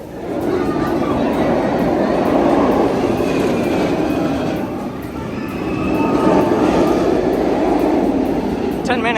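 Loud, continuous rumbling roar of the Kumba roller coaster at Busch Gardens Tampa on a busy Saturday, rolling and swelling from nearby with a brief dip midway; voices are heard under the noise.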